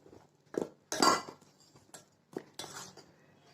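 A spoon scraping and clinking in a bowl while roasted rice flour is mixed with hot water, a few distinct close metallic knocks and stirring scrapes spaced irregularly, quiet with no talk.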